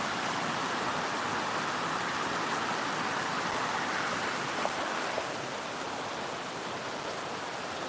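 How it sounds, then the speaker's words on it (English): An outdoor river flows in a continuous, even rush of water, fairly faint and steady throughout, with no talking. "This is the river."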